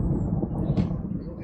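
Thunder rumbling during a rainy storm at an outdoor barbecue, a low continuous rolling roar that stays fairly loud throughout, with no talk over it.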